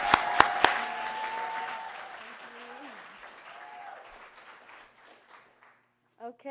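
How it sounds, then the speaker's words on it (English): Audience applause for the final contestant at a university business competition, a strong burst that opens with a few sharp claps, then fades steadily and stops, leaving near-silence before a brief voice. "A round of applause for Torianne."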